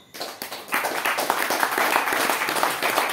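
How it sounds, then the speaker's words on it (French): A hall audience applauds a guest at the close of a May 2024 trade-union history talk, dense sustained clapping from many hands building quickly and holding steady throughout. "Nous applaudissons l'invité pour lui"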